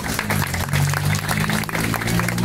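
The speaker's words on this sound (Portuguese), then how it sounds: "Aplauso!" Crowd applauding at an outdoor autism awareness day gathering, a dense continuous burst of clapping mixed with background music hum, close and fairly loud.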